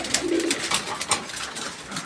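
Fancy pigeons coo at a pigeon farm, a low rounded call rising and falling near the start and recurring softly, with scattered feather flutters and faint background chatter.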